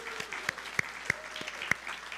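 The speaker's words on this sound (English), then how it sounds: "Let's give them a round of applause, Carol." A church congregation gives a short round of applause for the lunch helpers. A few separate claps stand out against a faint background, sparse and brief, heard from a moderate distance.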